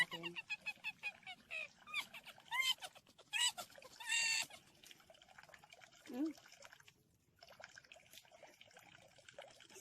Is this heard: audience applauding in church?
no